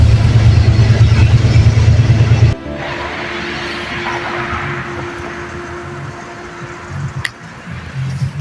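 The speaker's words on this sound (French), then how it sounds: "Donc là il y a un peu de bruit, j'essaie. Parce que, comme je disais tantôt, nous sommes dans ce fameux bus." Constant rumble and hum of a moving bus heard from inside the cabin, loud engine drone at first, then a steadier lower interior noise with a sharp knock near the end.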